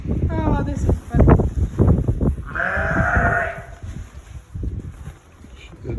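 A sheep lets out a clear, drawn-out bleat in the middle, with people talking before and after against light wind noise, on a farm.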